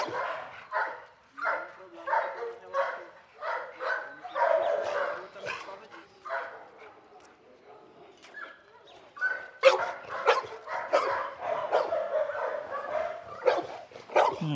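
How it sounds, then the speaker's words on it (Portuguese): A dog barks repeatedly in sharp bursts near a pit bull, close by, with a few yips and whimpers between barks. "Ele não pode reagir, mesmo que o cão esteja latindo"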